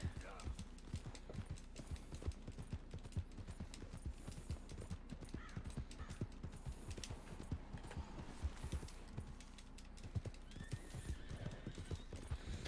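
Horses trot and neigh in Red Dead Redemption 2, with rapid, steady hoof clip-clops continuing throughout and occasional whinnies over them, quiet overall, with a person talking in the background.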